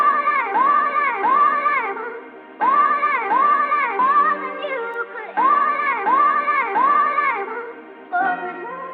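A chopped sample of a Christmas song looping in a sampler, one bright vocal chop repeating in even bursts with brief gaps, loud and up front, no talking.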